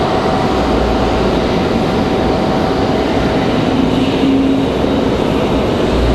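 A Frontier airliner arriving from Atlanta at Raleigh-Durham airport, heard as a steady, loud broadband jet roar that holds evenly throughout with no talk.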